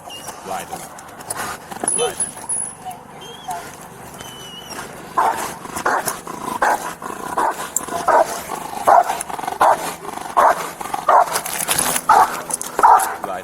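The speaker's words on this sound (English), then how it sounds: "send a police dog and the dog will bite you" A police dog barks repeatedly at a scene where officers confront a suspect, a rapid series of loud, close barks in an irregular rhythm, with shouted commands over them.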